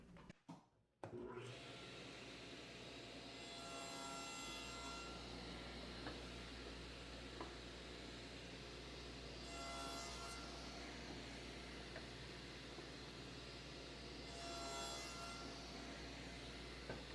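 A table saw with a miter gauge and fence cuts passes along all four sides of a wooden table leg, its loud steady motor hum running throughout with brief swells of higher blade noise as each cut is made.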